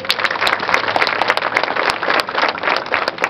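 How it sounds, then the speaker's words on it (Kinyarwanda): A crowd claps at an outdoor community sports event in Gicumbi district, a dense, steady patter of many hands that keeps going throughout without pause. "Niba siporo ibashimisha mukoma amashyi menshi turebe"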